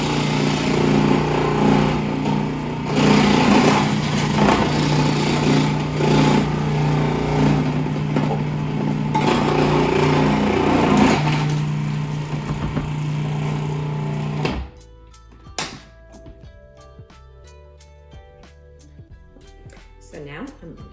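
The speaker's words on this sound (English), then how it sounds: "I'm going to turn on my food processor and get started grating them." A food processor grates zucchini and leeks with a loud, steady whirring motor drone lasting about fourteen seconds, then stops abruptly, leaving quiet kitchen clatter.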